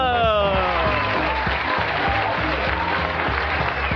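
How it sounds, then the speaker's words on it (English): Steady, dense clapping from a crowd fills the whole stretch, loud and continuous, with some voices and a musical tone mixed in at the start. "Ophelia, I don't think we've gotten such applause"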